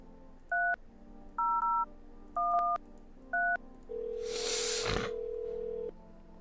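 Telephone keypad dialing in the video game No I'm Not a Human: four short two-tone beeps in an uneven rhythm, then a sustained tone with a brief breathy burst over it.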